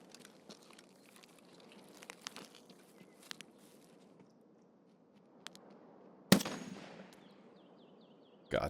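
Gunfire in Escape From Tarkov with an M1A rifle: a sharp, loud shot near the end with a ringing decay, then a second loud report at the clip's close, following quieter scattered clicks and faint background ambience.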